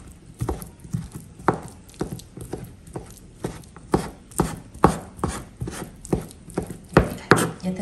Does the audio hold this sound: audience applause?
no